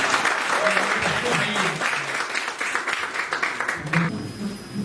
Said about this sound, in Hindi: अजीत भाई के लिए फिर से एक बार जोरदार ताली।